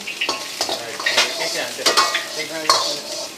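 Garlic and dry red chili frying in hot oil in a pan, a loud close sizzle broken by repeated scraping stirs and light utensil knocks, no talking.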